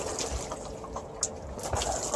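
Water is poured onto peat moss in the fabric pockets of a shoe organizer planter, a steady close splashing trickle with a few brief louder spatters.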